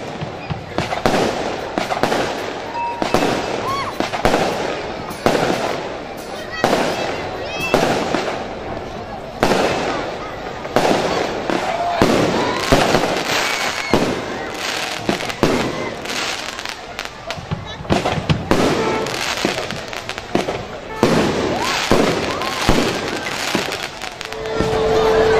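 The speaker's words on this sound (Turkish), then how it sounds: "önce havai fişek gösterimiz" Fireworks display at a traditional fig festival, a continuous run of loud bangs and crackling bursts in irregular rapid succession, with crowd noise and voices underneath throughout.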